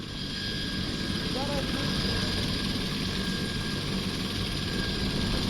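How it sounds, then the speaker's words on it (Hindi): A helicopter arrives for a state visit in Ayodhya, with a steady, loud rotor and engine drone that holds throughout. "उनका हेलीकॉप्टर पहुंच चुका है"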